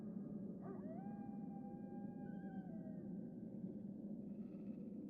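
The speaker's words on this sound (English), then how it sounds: "I hear the wolves howling and making wolfy sounds." Wolves howl in Metal Gear Solid: The Twin Snakes on GameCube, a few long wavering tonal calls rising and overlapping for a couple of seconds over a steady low game ambience, fairly faint and without speech.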